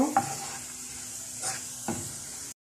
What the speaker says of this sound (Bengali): ঘি আর তেলের সাথে পেঁয়াজগুলো বেরেস্তা করে নিচ্ছি।